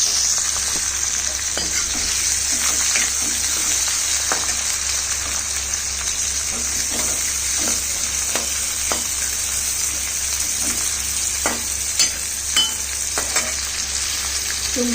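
Green chili pieces sizzling in a hot pan for malai kofta, a loud continuous frying hiss with frequent spoon-and-pan scrapes and taps throughout, no talking.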